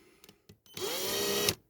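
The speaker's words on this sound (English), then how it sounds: "Okay, so I've got my drill in. We'll go in slow." Power drill boring slowly into the diecast metal base plate of a model car: a few short taps and bursts, then a steady whirring grind lasting under a second before it stops, close and fairly quiet.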